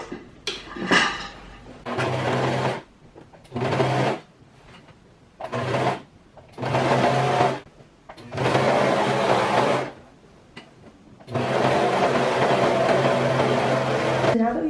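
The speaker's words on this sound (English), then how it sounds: "I'm going to go ahead and take this over to my serger and just clean this up" A serger overlocks the seam joining a mini dress bodice to its ruffle skirt, running in about six loud whirring bursts that stop and start between short pauses.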